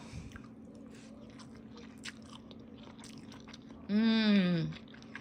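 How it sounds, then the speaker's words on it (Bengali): Quiet close-up bites and chewing of hot shrimp-flavoured instant noodles, with faint crunchy, squishy mouth sounds, then a brief louder tonal burst near the end. "নুডলসটা আমি একটু খেয়ে দেখাচ্ছি।"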